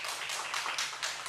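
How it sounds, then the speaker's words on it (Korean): A congregation claps together at a Korean dawn church service, a loud, dense run of clapping with a few swelling pulses over just over a second, with no voices over it. "하나님께 영광의 박수 올리겠습니다"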